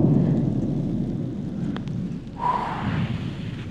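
A low rolling rumble of thunder from a lightning storm, fairly faint and continuous, with a brief swell of noisier wash partway through and no voices.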